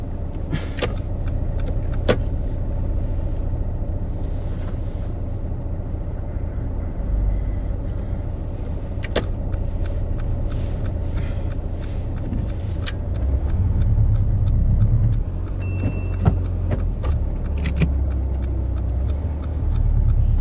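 Car driving on a road during a UK mock driving test with a learner driver, steady low engine and road rumble heard from inside the cabin, with occasional small clicks and knocks and a brief swell of engine noise later.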